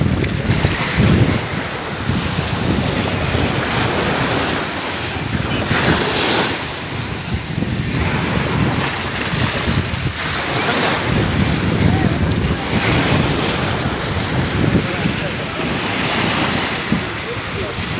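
Strong wind roars and waves crash continuously around a fishing boat at sea, loud and unbroken throughout, with heavy wind buffeting the microphone.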